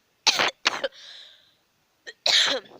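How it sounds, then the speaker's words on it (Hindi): Two quick coughs, a short breathy exhale, then another pair of coughs, close and clear against silence. "खांसी हो रही है मौसम के हिसाब से"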